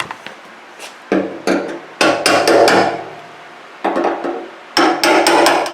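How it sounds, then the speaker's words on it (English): Sharp metallic hammer strikes on a flathead screwdriver or drift punch during motorcycle master cylinder reassembly come in short bursts of several quick blows, separated by brief pauses, close and loud. "You take a little flathead screwdriver and a hammer here, or a drift punch, whatever is handy."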